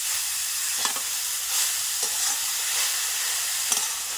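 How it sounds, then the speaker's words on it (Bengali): Grated amla (Indian gooseberry) is stirred into a pan for pickle, making a continuous close sizzling hiss broken by several short spatula scrapes against the pan. "আমলকিটা দিয়ে দিচ্ছি খুব ভালোভাবে নেড়ে এটাকে মিশিয়ে নেবে"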